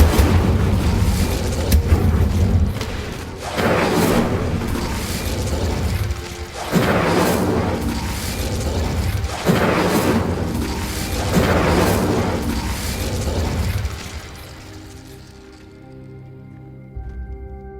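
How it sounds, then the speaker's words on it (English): Confringo blasting curses from Hogwarts Legacy go off in a string of heavy, booming explosions roughly every two seconds, loud and near, each with a rumbling tail, before the action fades to a quieter hum. "The blasting curse, Confringo, fires an explosive blast."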